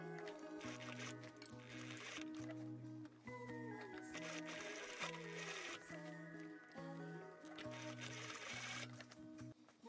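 A sewing machine bar tacks a tiny doll-sized trench coat, its needle chattering in steady rapid bursts with short pauses between runs, close and clear with no talking.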